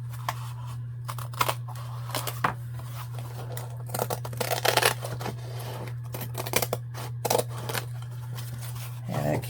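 A book cover spine being cut, heard as a series of close, irregular snips and crisp tearing and crinkling sounds over a steady low hum.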